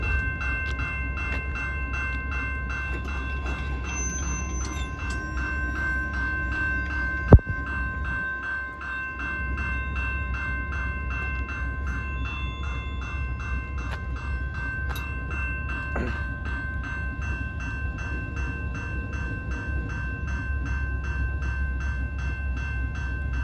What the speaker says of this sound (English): there's a train on the Yale subdivision